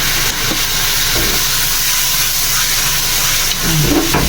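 Green leafy vegetables stir-fried in a pan give a loud, steady sizzle and hiss with occasional stirring scrapes and clatters, close up and continuous.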